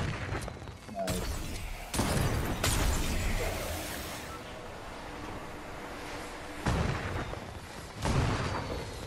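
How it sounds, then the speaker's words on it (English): Several loud explosive grenade booms in Fortnite burst out at intervals, each with a sharp crack and rumbling tail, separated by quieter stretches of low background noise. "I'm dropping these grenades."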